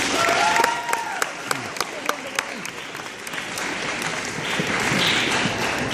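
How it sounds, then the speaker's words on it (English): Sustained audience applause at a costume contest, dense clapping filling the whole stretch at steady loudness, with cheers and voices mixed in over the hands. "Please give our judges a round of applause."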